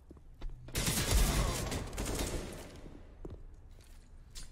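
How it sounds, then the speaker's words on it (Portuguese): Rapid gunfire exchange in CS:GO during a G2 vs FaZe ESL Pro League match, a dense, loud burst of overlapping shots lasting several seconds, then tapering into scattered fainter shots and thuds. "Foi avistado pelo Coldzera, vai trocando tiros"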